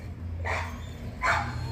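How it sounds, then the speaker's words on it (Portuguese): A large merle Pitmonster dog barks twice, two short, full barks a little under a second apart, moderately loud over a low background rumble. "cachorrão bacana"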